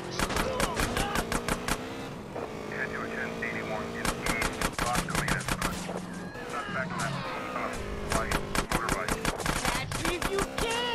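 Gunfire in the video game GTA San Andreas during a house robbery mission: repeated sharp bursts of shots crackle steadily through a busy, loud game mix, with engine revving and someone talking over it.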